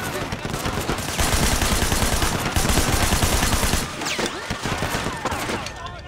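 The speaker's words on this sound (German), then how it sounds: "Könnte jemand aufhören rumzuballern" Rapid bursts of automatic gunfire and scattered shots in a Sleeping Dogs shootout at a wedding, loud and nearly continuous, with brief voices mixed in.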